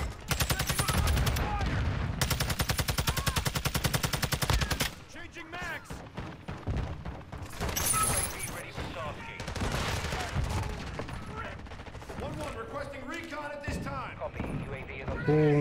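Rapid gunfire in Call of Duty Modern Warfare 2 ranked play, including shotgun blasts: bursts of sharp shots, dense at first, then scattered, with a player talking over the action.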